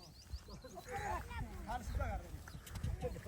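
Horse hooves clop on the ground as a mare is led in, the steady footfalls mixed with animal calls and people talking loudly around them outdoors.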